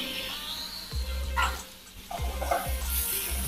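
Mixed vegetables cooking in a covered pan for a veggie burger give a soft, steady sizzle, with a few low thumps and clatters from the pan and lid near the mic.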